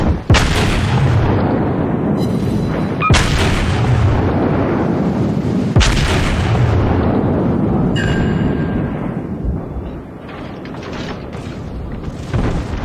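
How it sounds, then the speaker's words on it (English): Secondary guns on the South Carolina battleship in World of Warships fire in loud, repeated booms over a dense rumbling battle din, with sharp reports at intervals and a steady heavy background roar. "So you can see those are my secondaries firing."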